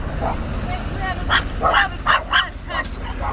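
Several small dogs yip and bark in quick bursts, fairly close, with whimpering tones mixed in over steady background noise.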